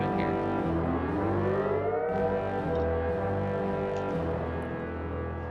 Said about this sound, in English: that sort of bliss slide of the lap guitar sounds like almost like an air raid siren